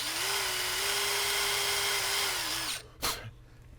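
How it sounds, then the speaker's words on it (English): A small power drill whines steadily at a fairly constant pitch for a few seconds, piloting screw holes in an 1891 Mosin-Nagant rifle, then winds down and stops, followed by a brief clunk. "come back in with a real small drill and just"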